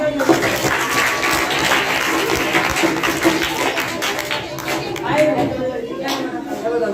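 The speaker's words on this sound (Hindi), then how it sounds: "जोरदार तालियां" An audience at a Hindi motivational talk claps loudly and continuously, the close, dense applause mixed with voices and crowd chatter throughout.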